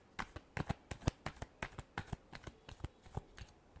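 Tarot cards are shuffled by hand in a rapid run of crisp riffling snaps, roughly a dozen quick bursts in an uneven rhythm, close by, faint, with no talk.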